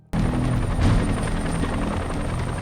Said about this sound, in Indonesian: Helikopter FBI baru tiba dan menangkap Crystal dan mengakhiri kasus ini.